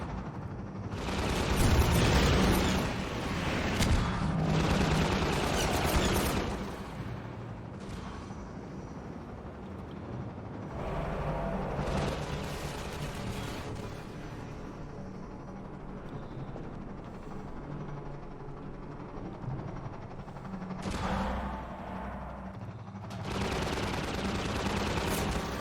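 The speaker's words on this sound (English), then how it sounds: "He's shooting down my rockets." In Half-Life 2, gunfire and explosions roar as an enemy shoots down rockets: dense, loud bursts of rattling fire with heavy booms, easing into a lower rumble mid-way before flaring up again near the end.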